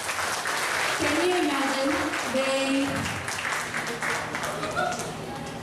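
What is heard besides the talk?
audience applause in a class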